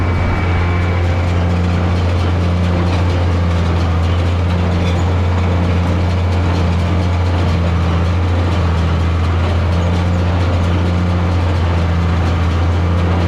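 A tractor engine runs in second gear while baling hay, a loud, steady low drone with a faint repeating mechanical pulse riding underneath, close and continuous.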